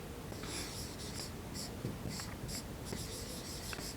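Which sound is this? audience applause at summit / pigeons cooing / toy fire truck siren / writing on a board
writing on a board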